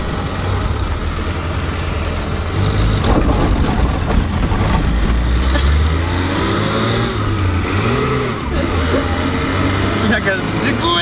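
A Zhiguli (Lada) car engine being revved hard nearby, loud and rough, with repeated rising and falling rev sweeps in the second half and people talking over the noise.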